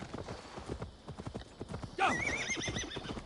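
Horse in the video game Assassin's Creed Valhalla, hooves clip-clopping in a steady trot before a loud, close neigh rises over them and trails off as the hoofbeats continue.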